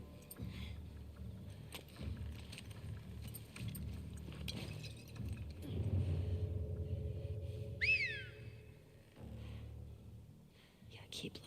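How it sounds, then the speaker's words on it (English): A short rising-and-falling enemy whistle signal from The Last of Us Part II sounds twice near the end, clear above low rumbling ambience and quiet whispering. "one of the scariest things they did was put that whistle in the game"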